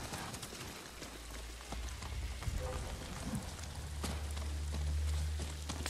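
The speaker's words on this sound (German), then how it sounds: "Zischender Bach." A hissing brook in the Ghost of Tsushima video game, a continuous rushing, spattering water noise heard steadily throughout, with a low rumble underneath.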